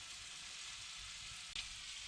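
A sandwich fries in butter and a little oil in a pan, giving a steady, even sizzle with one brief bump partway through.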